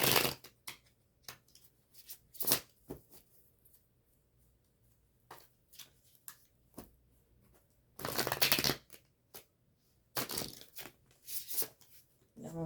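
A Lisa Robertson Mermaid Tarot deck is shuffled close up in quick bursts of riffling and card slaps, separated by quiet pauses, with faint speech in between.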